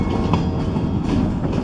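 Loaded pulpwood cars of an Escanaba and Lake Superior Railroad freight train roll by up close in East Kingsford, Michigan, a loud continuous rumble with rhythmic clickety-clack of wheels on rail joints.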